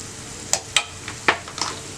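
Garam masala, turmeric, chilli powder, coriander powder and green chillies frying in a pan, with a few sharp scraping stirs and soft sizzling across a short burst, close and clear with no talk.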